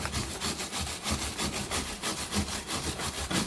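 Steady rhythmic scrubbing, a brush rubbing back and forth against a moldy sponge filter inside a system air conditioner in quick even strokes, close and continuous with no talking.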